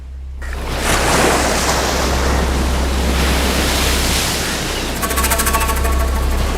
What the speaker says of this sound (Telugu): ఏంటి సముద్రంలో ఇలా గాలులు వస్తున్నాయి?